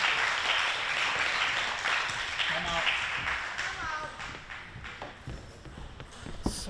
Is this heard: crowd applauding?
yes